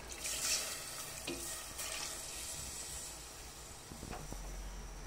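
Steady liquid hiss and trickle of coconut milk being poured into a pan of fish with vinegar, garlic and pepper, continuous and fairly close for several seconds.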